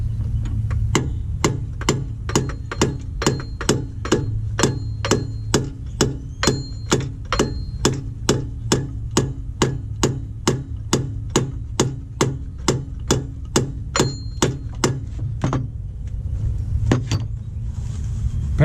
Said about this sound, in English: Try a little bit more persuasion with the hammer.